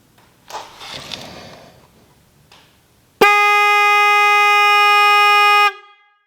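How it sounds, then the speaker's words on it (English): A Denali Soundbomb low-tone horn fitted to a Honda CB500X motorcycle blasts once, loud and close, holding a steady tone for about two and a half seconds after some quiet handling noise. "It is a low tone horn, which makes up for a lot."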